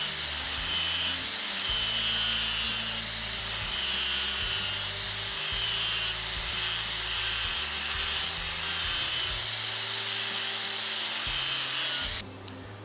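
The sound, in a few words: grinding a welded quarter-inch steel corner flat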